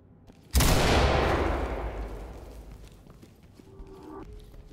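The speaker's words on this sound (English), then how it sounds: "Toss a flashbang." A flashbang grenade detonates in the tactical shooter Ready or Not, a single sudden loud bang with a long ringing decay, followed by quieter background game sounds.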